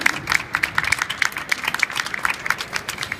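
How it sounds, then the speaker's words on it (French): At a student debate competition, the audience gives a moderate round of applause, with scattered individual claps standing out over a softer crowd patter, steady throughout. "On peut les applaudir, oui."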